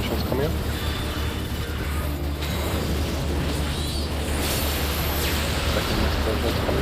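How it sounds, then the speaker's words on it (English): Dense, continuous game explosions and rumbling effects fill a Final Fantasy XIV Endwalker raid, loud and unbroken, with a person talking over the din. "First explosions coming up. Second explosion"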